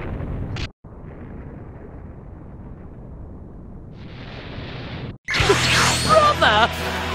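A loud, sudden explosion in the Dragon Ball Xenoverse 2 video game bursts out after a long low rumble and a brief dropout, then crackles on with ringing tones.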